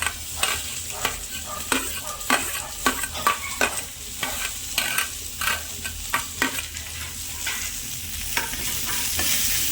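Shallots sautéing in hot coconut oil in a pan for Kerala country chicken curry, a steady loud sizzle broken by repeated scraping stirs of a spoon, with no talking.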